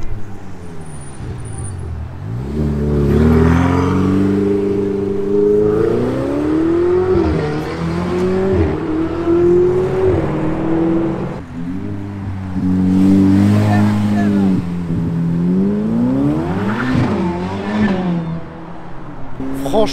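BMW M5 engine revving hard at a charity supercar event, rising and falling in repeated surges over about twenty seconds, loud and close, with some speech in the background.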